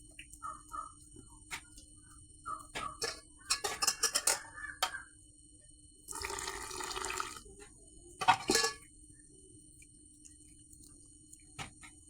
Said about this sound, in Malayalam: ശർക്കരൻ്റെ പാത്രത്തിൽ കുറച്ച് വെള്ളം ഒഴിച്ചിട്ട്